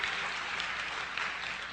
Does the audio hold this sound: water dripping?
no